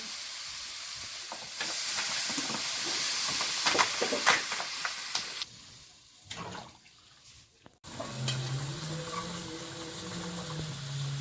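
A steady hiss of frying gives way to a sharp burst of sizzling as water hits the hot pan, then a calmer bubbling simmer.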